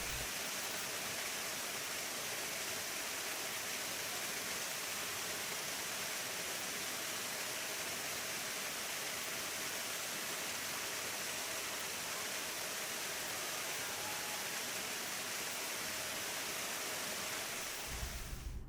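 Waterfalls at Hacklebarney State Park, a constant, even rushing hiss of falling water, fairly soft and unbroken.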